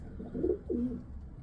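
A female pigeon coos close by, two soft low throaty coos in quick succession over a quiet background.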